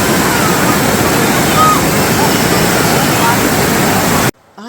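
Small waterfall hidden inside a forest, a steady loud rush of falling water roaring continuously and close by, cutting off abruptly near the end.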